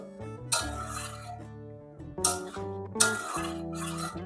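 A spoon clinks against a pot while coconut milk gravy with ridge gourd is stirred, three bursts of scraping and knocking over steady musical tones.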